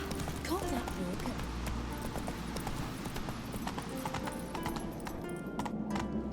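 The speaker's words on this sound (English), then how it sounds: "Run, Roach." Horse galloping in The Witcher 3: Wild Hunt, a steady clip-clop of hooves that runs through the whole stretch under game ambience, with a brief whinny and some speech mixed in.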